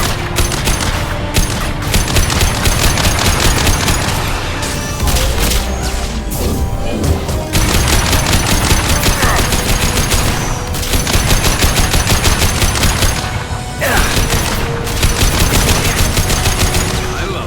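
Heavy weapon fire in the sci-fi shooter Mass Effect 2: dense, continuous loud bursts of rapid gunfire and explosive booms, nearly unbroken, with brief dips between volleys.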